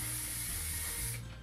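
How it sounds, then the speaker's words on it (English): Hairspray from an aerosol can hisses onto hair in one continuous close spray lasting about a second, then cuts off, leaving a faint residual hiss. "So hairspray again."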